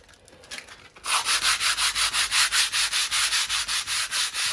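Sandpaper rubs down a filled crack in a wall in brisk, even back-and-forth strokes, about a dozen and a half rhythmic scratchy swishes after a quieter start, close up and with no talking.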